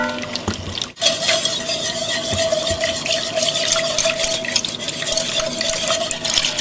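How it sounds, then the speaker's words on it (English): A whisk beating batter rapidly in a bowl, a continuous brisk swishing and scraping with a faint steady ringing tone, close and uninterrupted for several seconds. "you have to stir and stir, and sometimes you may even need to get a whisk out"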